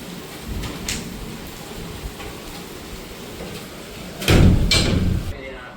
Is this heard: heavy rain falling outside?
yes